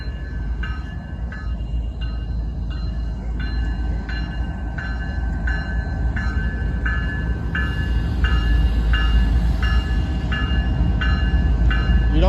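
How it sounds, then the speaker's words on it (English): CSX locomotive leading a train on Canadian Pacific track, a loud close rumble of passing rail cars with a repeating rhythmic clatter that grows heavier toward the end. "It's a rare sight to behold, seeing a locomotive this far north."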